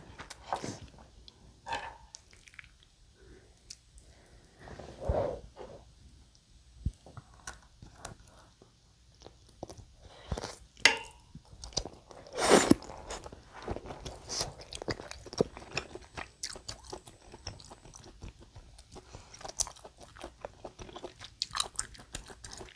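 Chewing and biting through stretchy mozzarella cheese with spicy buldak fried noodles, close and crunchy with irregular bites over about twenty seconds and no talking.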